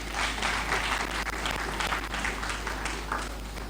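Sustained audience applause at a mental health awareness conference, a dense steady wash of many hands clapping, fairly distant, holding evenly throughout with a low hum underneath.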